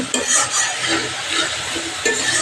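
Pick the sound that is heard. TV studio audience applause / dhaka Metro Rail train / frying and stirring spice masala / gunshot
frying and stirring spice masala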